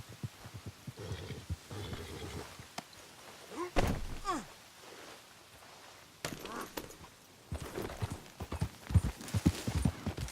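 Horse hooves clip-clop in the Red Dead Redemption 2 video game, uneven close steps in short bursts with pauses, alongside brief thuds and other game sounds.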